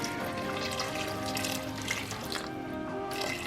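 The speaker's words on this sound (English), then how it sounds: "I'm gonna go ahead and add in water." Water pours steadily into a pot of spiced potatoes cooking in sauce, a soft continuous splashing and trickle heard close by.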